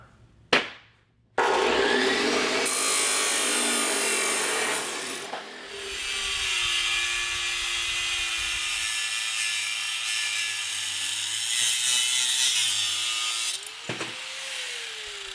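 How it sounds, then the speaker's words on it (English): Steel flat bar being cut for a monster truck kart body, a loud continuous grinding rasp that holds steady for about twelve seconds after a brief start, with the motor pitch sagging slightly and rising again near the end. "I'm going to cut 2 inches out of this flat bar"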